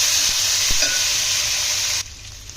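Biryani ingredients sizzle and fry in a pan with bay leaf and ginger-garlic paste while a utensil stirs with a few scraping knocks. The frying hiss is loud and steady, then drops sharply near the end.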